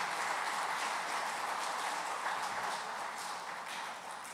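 A church congregation claps to welcome newly baptised members at a Korean service, steady dense applause filling the hall for several seconds at an even level before easing slightly, with no speech over it.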